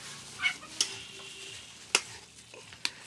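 Biryani ingredients stirred in a pan for an Old Dhaka Haji-style biryani, with a soft sizzle under a few distinct scraping stirs and sharp metallic taps of the spoon, close and fairly quiet.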